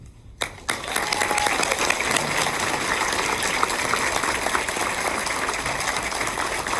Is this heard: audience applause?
yes